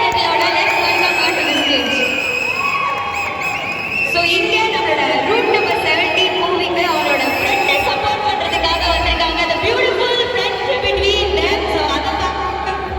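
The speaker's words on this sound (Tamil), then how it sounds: "ஒரு பெரிய கைத்தட்டல் கொடுத்துடலாம்" A big crowd cheers and claps for a Tamil TV comedian, Aranthangi Nisha, sustaining a loud, dense roar of shouts and applause throughout with high children's voices mixed in.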